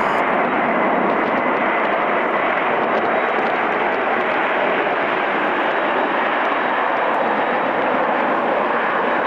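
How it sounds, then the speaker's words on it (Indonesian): An airplane flying overhead, a loud continuous broadband roar of aircraft engines that holds steady for about nine seconds with no voices present. "dan suara pesawat terbang"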